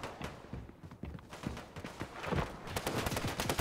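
Video game gunfire in Escape Room Prison Island crackles in rapid irregular bursts at moderate loudness, a dense run of close shots growing busier toward the end.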